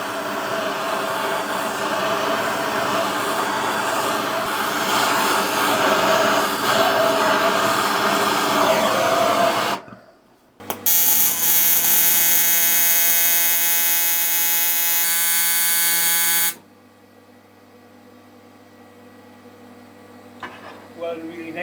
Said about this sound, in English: Welding really nicely.